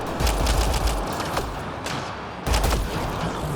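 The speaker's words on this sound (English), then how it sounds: "That's what was hitting me, this turret over here." A turret fires in the video game Mass Effect: Andromeda as bursts of rapid gunfire crackle and thud in two close, loud volleys, with a brief lull between them.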